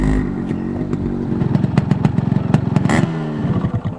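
A 1976 Honda CBX 1000cc motorcycle engine revs close and loud, with a rapid throbbing, clattery pulse that surges and tapers off, without any talk.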